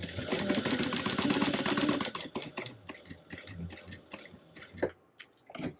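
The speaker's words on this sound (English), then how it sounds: "I'm going to sew right over it" A sewing machine stitches across vinyl, a rapid mechanical rattle for about two seconds that slows into scattered ticks and clicks as the fabric sticks and feeds unevenly.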